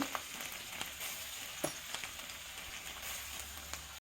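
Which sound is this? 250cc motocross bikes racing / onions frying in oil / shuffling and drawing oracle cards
onions frying in oil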